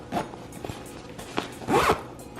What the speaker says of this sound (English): I just zip it up and then it gets